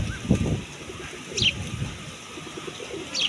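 Pigeons cooing outdoors, soft low repeated coos over a steady background hum, with a few faint higher chirps in between and no speech.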